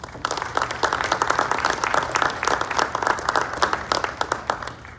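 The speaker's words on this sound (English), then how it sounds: "So I would like to give those folks a round of applause." An audience at a school district board of education meeting gives a round of applause, with many individual claps blending into a steady, fairly close patter that holds throughout.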